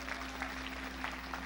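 A church congregation claps hands during a Sunday evening Pentecostal service in 1985, soft rhythmic claps over a steady electrical hum, fairly faint and distant.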